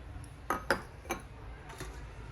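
Chopped potatoes, capsicum, onion and tomato mixed in a bowl for stuffed parathas, with a few light, quiet clinks of a utensil against the bowl spaced irregularly across the moment, no talking.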